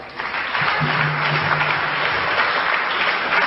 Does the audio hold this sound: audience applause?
yes